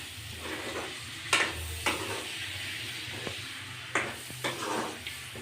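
Chicken pieces fry in a pan with a little added ingredient, giving a soft, steady sizzle broken by a few sharp clinks and scrapes of stirring, with no one talking.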